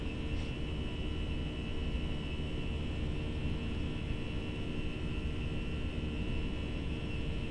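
Simulated Airbus A320 engines roar during a takeoff roll in a flight simulator game, a steady, broad droning rumble that holds unchanged at a moderate level, with no voices.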